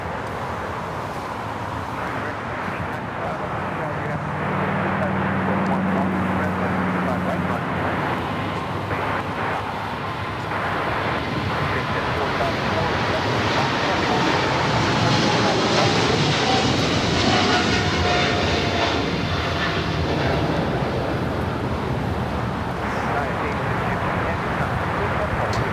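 A brand-new MSC Air Cargo Boeing 777 freighter rolls down runway 25 Left at LAX on takeoff, its engine roar building into a broad, steady rumble and whine that swells and holds loud throughout, with a commentator talking over it.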